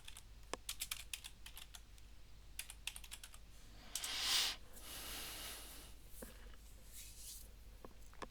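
Fingers tapping on a computer keyboard in quick irregular bursts, close and faint in a quiet room, with a soft breath or rustle midway and no talking.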